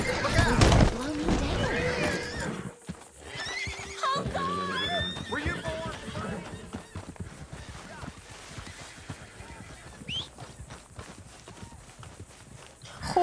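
A horse in the Red Dead Redemption 2 video game whinnies and snorts with clip-clopping hooves, loud and close, amid busy game sounds, while a person talks over it.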